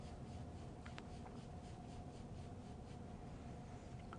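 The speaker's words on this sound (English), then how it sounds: "gently lay the tape down and then rub over top to activate the glue" Kinesiology tape pressed onto skin and rubbed over with the hand, a soft continuous brushing friction up close under a steady background hiss.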